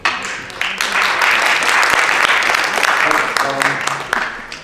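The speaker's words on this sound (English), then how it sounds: "I want you guys to hold the applause until the end after everyone has spoken" A student election debate audience breaks into a sustained round of clapping, a dense, close, steady wash of applause with voices mixed in beneath it.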